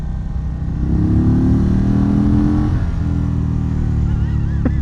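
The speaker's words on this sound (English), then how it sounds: "It got mad at me because I was revving it out." A 2022 Indian Chief V-twin motorcycle engine revs up and holds a loud, rough drone, with the pitch rising and falling, heard up close.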